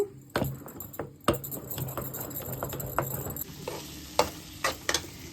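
Gongura leaves mashed with salt using a wooden masher, a run of close, irregular thuds and squelching taps with some faint clatter in between.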